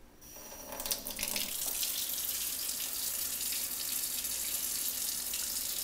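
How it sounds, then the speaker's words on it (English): A faucet runs steadily, producing aqueous ozonated water, with a continuous hiss and splash as the flow builds in the first second and then holds even and fairly close. "When we actually turn the faucet on and we start producing aqueous ozonated water"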